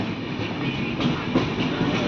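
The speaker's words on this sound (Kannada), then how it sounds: "ಟ್ರೈನ್ ಹತ್ಕೊಂಡಾಯ್ತು ನಾವು" Passenger train in motion heard from inside an almost empty carriage, a loud continuous rumble with faint rhythmic clatter from the wheels.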